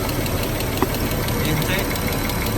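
A Dodge 3.6L VVT engine with a failed valve lifter idles with a steady, dense mechanical clatter and fine rapid ticking throughout, loud and close, while a person talks over it.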